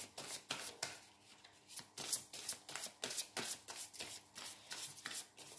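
Tarot cards being shuffled by hand for a reading, a close run of quick papery riffles and flaps repeating in brisk bursts, fairly quiet, with no talking.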